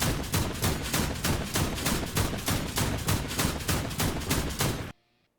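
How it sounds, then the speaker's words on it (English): Rapid 20mm autocannon fire from a tank in the game Hell Let Loose, a steady stream of loud sharp shots lasting about five seconds before cutting off abruptly. "It's got that tiny little cannon up front, the 20mm auto cannon."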